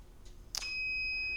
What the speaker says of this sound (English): You hear the alarm going off there.